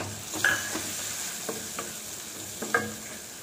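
Tomatoes sautéing in a pan with garlic and red chili powder for a ridged gourd curry, a soft steady sizzle with a few quiet stirring scrapes and taps.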